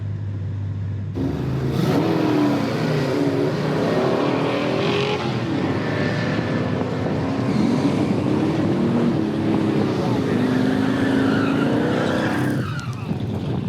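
A Chevrolet Malibu engine revs hard and continuously on a hot lap, pitch climbing and dropping through gear changes, with tires briefly squealing near the end.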